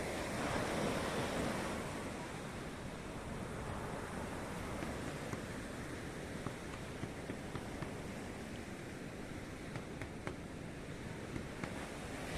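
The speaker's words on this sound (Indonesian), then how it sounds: "Kali ini ombaknya tidak terlalu besar, namun tetap harus hati-hati." Ocean waves at Sundak Timur beach, Gunung Kidul, wash and roll continuously in a steady roar, with wind buffeting the microphone and no talking.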